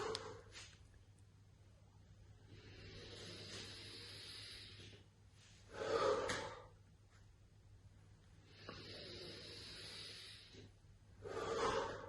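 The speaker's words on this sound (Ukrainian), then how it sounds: "До цього додаємо вдих і легкий видих" Slow inhales and light exhales during a stage-speech relaxation exercise, close and soft, repeating in a steady cycle of longer airy breaths and shorter, sharper puffs.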